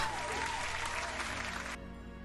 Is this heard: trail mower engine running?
no